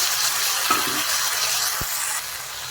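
Mustard paste goes into taro stolons (kochur loti) frying in a pan, with a steady close sizzle and one soft thud partway through.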